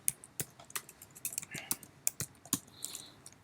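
Rapid, uneven keystrokes on a computer keyboard at a desk during Firebase tools setup for a React project, crisp clicks close by with no talking.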